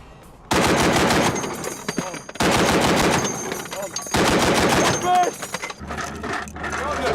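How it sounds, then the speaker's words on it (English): A 50mm heavy machine gun fires in three long, loud sustained bursts of rapid heavy shots, separated by short pauses, with rattling mechanical noise after the last burst. "the 50mm heavy machine gun."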